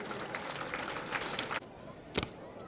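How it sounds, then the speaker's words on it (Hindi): An audience claps together in a quiet, distant burst of applause that stops abruptly, followed by a brief thump. "जोरदार तालियों से उत्साहवर्धन कीजिएगा।"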